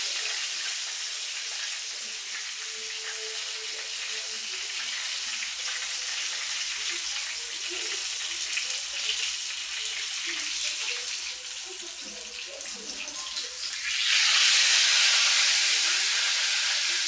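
Fish frying in hot oil gives a steady, close sizzle and crackle that runs throughout, then swells into a louder, brighter hiss near the end.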